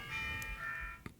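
A camera's electronic alarm warning that its SD card is running out of space: a steady, buzzing beep tone lasting about a second, followed by a brief click.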